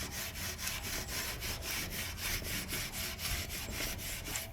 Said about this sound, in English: I have some iron out in here with some steel wool for these big pieces